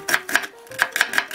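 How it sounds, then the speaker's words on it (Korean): A knife cuts vegetables into thin julienne strips on a cutting board for perilla leaf kimchi, giving six crisp, evenly spaced chops that land close and clear with short pauses between them. "이렇게 어슷 썰기로 해서 이렇게 채를 썰어줍니다"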